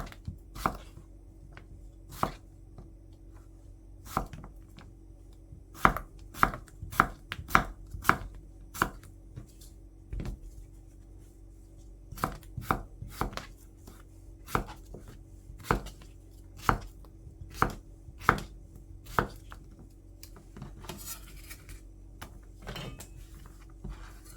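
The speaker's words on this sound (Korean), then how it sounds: "오이 반 개 반으로 썰어서 준비해 주고요. 약간 도톰하게 썰어서 준비해 주고" Thick slices of half a cucumber being cut with a knife on a cutting board, a steady series of sharp, close chopping knocks with brief pauses between bursts, no talking.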